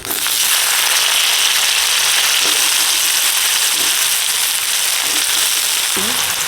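Potatoes sizzle and crackle loudly in hot oil with bay leaf, dried chillies and whole cumin, a steady close frying hiss with faint scattered pops.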